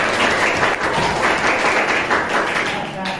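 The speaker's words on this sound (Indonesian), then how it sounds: "kita tepuk tangan untuk Sultan lagi" A classroom of children applauds a student with steady, dense clapping that runs for the whole stretch, close and loud, with a few voices mixed in.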